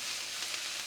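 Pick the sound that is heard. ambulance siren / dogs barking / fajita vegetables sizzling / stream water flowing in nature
fajita vegetables sizzling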